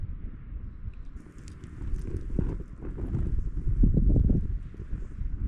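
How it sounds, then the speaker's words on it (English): Wind gusts outdoors at a stormy campsite in Snowdonia, a low rumbling buffet against the microphone that swells and eases throughout, loud and close. "It's not that it's really cold, it's the wind that's biting at the minute."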